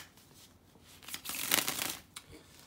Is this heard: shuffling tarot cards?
yes